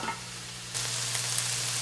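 Sweet potato and sausage hash frying in a pan, a steady close sizzle that swells louder as the food is stirred.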